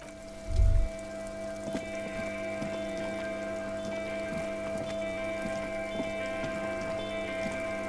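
Steady rain falls in the Disco Elysium video game, a continuous patter of drops under a droning background with one low thump at the start, close and even throughout.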